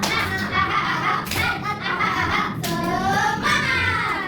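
Schoolchildren clap in rhythmic bursts while chanting a spirited classroom clapping chant together, the hand claps loud and close between sung, drawn-out vocal phrases.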